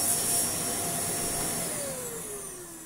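Bagless vacuum cleaner with variable speed control running steadily and loudly, its high motor whine holding for several seconds and then dipping slightly in pitch near the end, with no talking.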